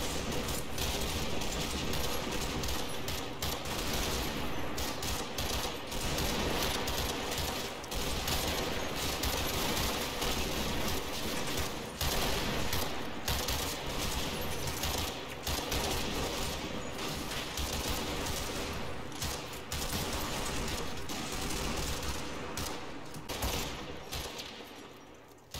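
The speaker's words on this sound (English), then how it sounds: "they start to lay down suppressive fire" A platoon laying down suppressive fire, a sustained dense barrage of rifle and machine-gun shots with no pauses, loud and unbroken for the whole stretch.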